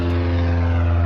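Propeller airplane passing overhead near an airport, a loud, steady engine drone with strong low humming tones throughout.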